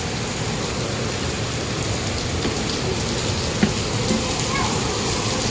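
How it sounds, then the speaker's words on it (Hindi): Heavy rain pours steadily in a dense, continuous hiss, close and loud, with a faint voice murmuring underneath. "तेज तेज बारिश आ गई, तेज।"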